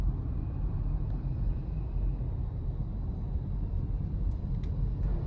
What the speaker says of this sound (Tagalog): Pag gantong oras talaga uwi yan, may traffic na rito.